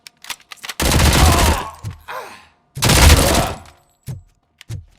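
Gunfire from a weapon in the video game RoboCop: Rogue City: two loud, sustained bursts of rapid shots separated by a short pause, with a few scattered thuds between and after.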